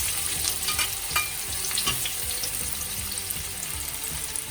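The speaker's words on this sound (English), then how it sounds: "Once the oil is hot, add your chopped onions" Chopped onions frying in hot oil in a wok for a vegetarian lasagne, a bright crackling sizzle with a few stirring scrapes, close and steady with no talk.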